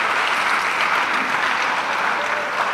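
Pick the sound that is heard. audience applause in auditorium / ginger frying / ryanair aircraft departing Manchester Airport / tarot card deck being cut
audience applause in auditorium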